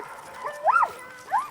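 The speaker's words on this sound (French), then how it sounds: "Ils sont tous gentils, les chiens." Dogs in Québec let out two short, yelping barks, about half a second apart, fairly close and fairly loud against a quiet background.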